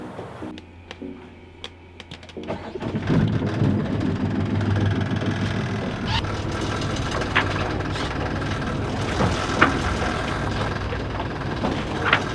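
A sailboat's inboard engine starts and settles into a steady, mid-pitched idle before setting out, beginning after a couple of seconds of quieter sound and droning on evenly with a few small knocks.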